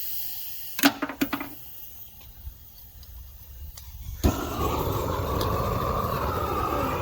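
A propane torch on a driveway gives a few sharp clicks and pops, then catches and settles into a steady, loud roaring hiss of flame.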